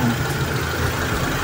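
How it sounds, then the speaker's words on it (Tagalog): A Mitsubishi Lancer with a 4G13 engine and 2E carburetor idles steadily close by, a continuous low rumble with a faint whine and no speech. "start na po natin yung makina."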